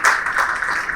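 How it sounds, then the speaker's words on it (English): Audience applause at a business conference as Samvardhana Motherson Group chairman VC Sehgal is invited to the stage: a brief, steady wash of clapping from a crowd, fairly loud and continuous, with no speech over it. "Huge round of applause for"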